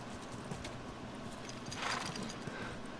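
Quiet, rhythmic clip-clop of horse hooves in The Last of Us video game, soft and somewhat distant, steady paced over a low background hum, with a brief rise in noise midway and no talk.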